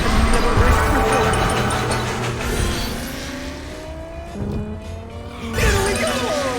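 Racing cars roar continuously through the Cars 2: Fast as Lightning video game as Luigi, with engine drones and tire squeals rising and falling over the track, loud and close, with a louder burst near the end.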